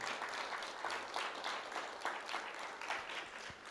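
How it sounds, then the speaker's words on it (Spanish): Church congregation applauding at a Spanish-language service on faith, a steady wash of many hands clapping that stays fairly faint and even throughout, with no talk over it. "Y ahora dele un aplauso a Él, que Él se lo merece."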